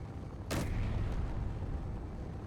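One sharp gunshot strikes a hydrogen tank in the Space Engineers video game, a single loud crack followed by a low rumbling tail that lingers for a couple of seconds.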